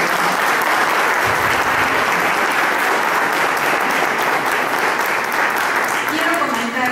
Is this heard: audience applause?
yes